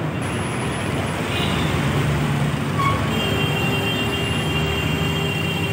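A metro train runs overhead on an elevated line in Andheri, Mumbai, giving a constant heavy rumble and rushing roar mixed with street traffic, loud and unbroken throughout.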